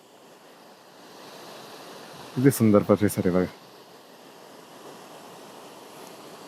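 A small river near Khodala in rural Maharashtra gives a steady, even rush of flowing water throughout, with someone speaking briefly over it in the middle.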